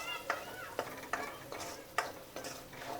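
Masala sautéing in oil, a faint, steady sizzle with regular soft stirring scrapes roughly every half second.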